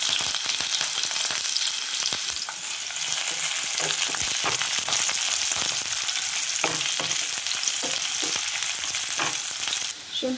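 Onion, curry leaves and a cut green chili fry in hot oil in a pan, giving a loud, continuous close sizzle broken by scattered stirring clicks and scrapes, with no voices.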